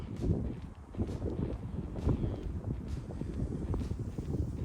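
Wind gusts outdoors on a hot day during slingshot shooting, buffeting the microphone with steady low rumbling and rustling that rises and falls throughout, with no talking.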